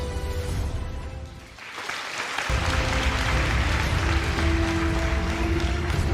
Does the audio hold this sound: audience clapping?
yes